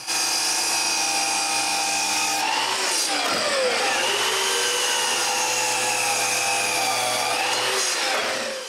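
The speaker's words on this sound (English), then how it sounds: "After tilting my miter saw to 38 degrees, which is the angle of my steps, I cut all the blocks." A miter saw tilted to a 38-degree bevel runs with a loud motor whine, then drops through wooden blocks for staircase steps, the blade pitch sagging under the cut before spinning back up, close and continuous.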